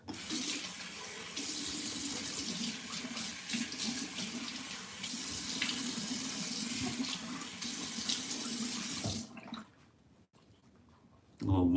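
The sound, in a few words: warm water running from a tap for washing the face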